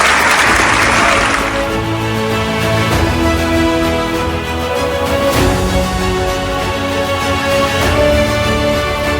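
Audience clapping at a sixth anniversary and awards ceremony, a brief burst of dense applause at the start that quickly gives way to steady background music.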